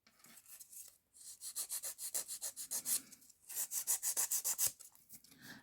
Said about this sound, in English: I'm going to post this video with the sound of the e-file going